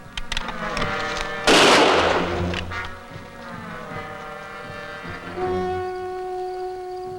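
A single sharp gunshot cracks loud and close, then fades into a held, tonal background with a deep droning note toward the end.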